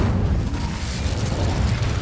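Incendio fire spell bursting in the Hogwarts Legacy video game, a dense low rumbling roar that stays loud and steady throughout, with no voices over it.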